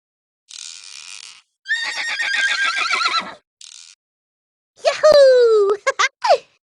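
A cartoon horse in the Adibou video game neighs in bursts, a bright whinny with a falling final squeal, alongside short clip-clop and synthetic game noises separated by silence.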